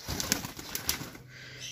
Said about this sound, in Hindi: ये देखे कबूतर अब अंदर जाने की कोशिश